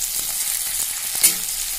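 Chopped onion frying in a pan for pasta, a soft steady hiss of sizzling oil with light stirring taps and one sharp clink partway through.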